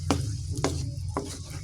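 Food with oyster sauce being stirred in a hot frying pan: three distinct scraping strokes at an even pace over a constant low sizzle, close and clear, with no voices.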